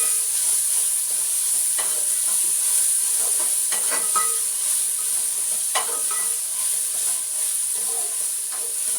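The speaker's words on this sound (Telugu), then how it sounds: "ఇప్పుడు మసాలా వేగిందండి, బాగా ఎరగొచ్చింది" Masala sizzles steadily in a pot while being stirred for a spicy biryani, a continuous close hiss with scattered scraping clicks of the spoon and no voices.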